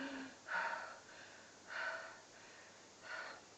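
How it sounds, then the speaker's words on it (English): Three slow, audible breaths, each a soft rushing inhale or exhale spaced about a second apart, close and quiet, performed as a demonstration of fast anxious breathing. "The breathing that we have when we are afraid is very fast, like that."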